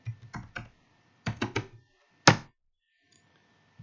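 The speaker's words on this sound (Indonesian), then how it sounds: "langsung kita ketikkan blogspot atau blogger" Short bursts of crisp keystrokes on a computer keyboard typing a web address, close and clicky in small clusters separated by silent pauses, no voices.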